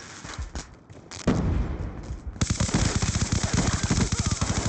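Sustained automatic gunfire in Black Ops II aimed at bringing down a UAV, a dense rapid burst loud and close, preceded by scattered shots and rumble.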